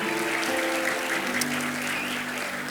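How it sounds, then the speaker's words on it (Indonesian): Youth retreat crowd applauding steadily and evenly, a continuous wash of clapping carried over a low sustained tonal hum throughout. "Boleh kasih tepuk tangan buat kalian semua."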